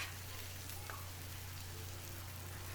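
Smashed burger patties fry on a griddle, a faint, even hiss like light rain over a low steady hum, continuing without break.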